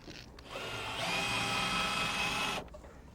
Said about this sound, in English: then I'll countersink the head so this screw fits in there real nice